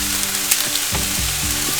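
Two sprigs of green onions sizzle loudly on a Blackstone griddle at a campsite, a dense steady hiss with a few soft scrapes, close and with no voices.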